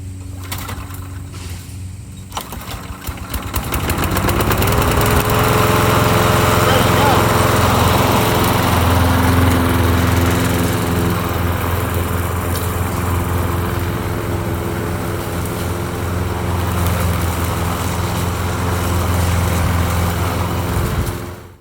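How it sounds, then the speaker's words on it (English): A lawn mower engine starts after a few seconds and then runs loud and steady with a droning hum until it cuts off at the end. "after the lawnmower is done"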